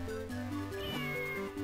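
A cat meows in Zelda: The Minish Cap, one clear, rising meow that lands over the game's looping chiptune melody and bass.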